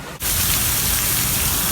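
Steady, dense rain hisses continuously at Animal Kingdom theme park in Florida, broadband and fairly loud, with no voices over it.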